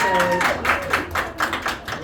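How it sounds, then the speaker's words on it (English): An audience at a magic show in a Nashville venue claps steadily in an even rhythm of distinct claps, with a voice speaking over it. "All this applause is for you."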